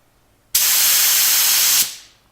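A paint spray gun shoots primer onto a school bus ceiling, a single loud, steady hiss that starts abruptly, lasts just over a second, then cuts off and fades.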